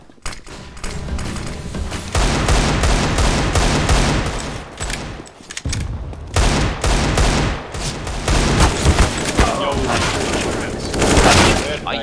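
Gunfire and a flashbang burst in a shooter video game map playtest, dense rapid shots and loud thuds filling most of the stretch with brief gaps, while players talk over the action.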